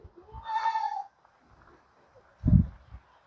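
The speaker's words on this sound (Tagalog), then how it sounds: "Yan ating kambing guys." A goat bleats once on a farm, a wavering, nasal cry lasting about half a second, followed by a short low sound and scattered faint background noise.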